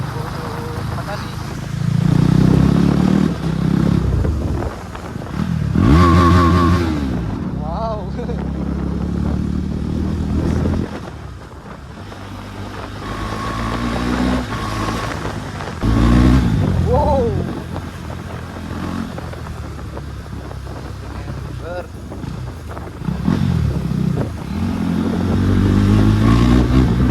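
A Bajaj Dominar 250 motorcycle revving hard during wheelies on a group ride, its engine note rising and falling in several loud bursts, with people talking over it throughout.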